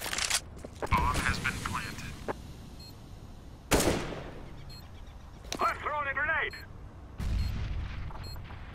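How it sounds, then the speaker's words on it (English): During a CS:GO round, a thrown grenade detonates among gunshots. Several sharp, booming broadband blasts are spaced a few seconds apart over game noise, with brief voices heard in between. "I'm throwing a grenade!"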